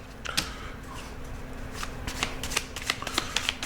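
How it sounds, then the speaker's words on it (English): Close, crisp shuffling of a deck of tarot cards, a quick series of soft riffling snaps and flicks with no talking. "I'm told to put this back in and shuffle again"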